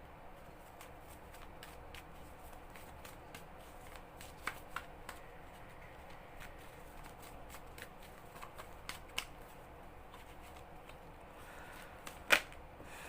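Tarot cards shuffled by hand in a quiet room, a soft steady riffling with scattered light taps and one sharper snap near the end, faint and close with no talk.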